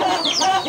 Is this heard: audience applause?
no